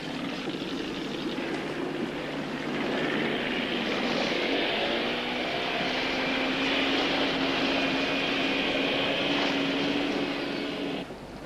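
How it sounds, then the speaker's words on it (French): A helicopter drones loudly and steadily nearby, its engine and rotor noise building up and holding for several seconds with no speech. "On prend mon hélico."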